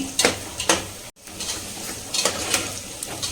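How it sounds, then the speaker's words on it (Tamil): Onions sauté in a pan for an egg biryani, a close, continuous sizzle broken by scraping stirs and light utensil clatter, with one brief dropout partway through. "நல்ல வெங்காயம் வந்து பார்த்தீங்கன்னா வதங்கணும்."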